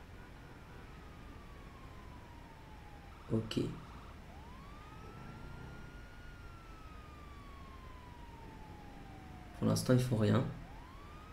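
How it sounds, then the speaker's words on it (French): Police sirens in the video game GTA 5, a faint wailing rise and fall in the background beneath people talking, with a couple of short louder bursts of game noise. "Ouais, j'entends les sirènes."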